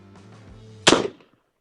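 A single sharp gunshot from a .45-70 rifle fired at an armor plate, a loud close crack with a short decaying tail, coming after a brief low background.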